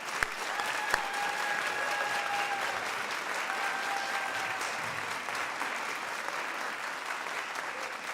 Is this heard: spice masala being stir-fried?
no